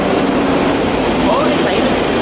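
A train rumbles steadily nearby with a faint wheel squeal, a continuous mechanical roar filling the short moment, as a Class 334 electric train runs near Glasgow Queen Street Tunnel.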